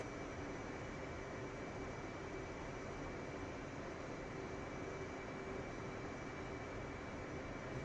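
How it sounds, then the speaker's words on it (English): In the flight simulator DCS, an F/A-18 Hornet's jet engine keeps running as a faint, steady, unbroken drone and hiss, with no change in pitch or level from start to end. "Apparently I'm still in the game. I still hear my engine."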